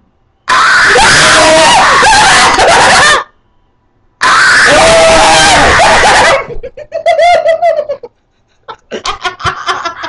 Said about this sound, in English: I didn't know it screamed at you.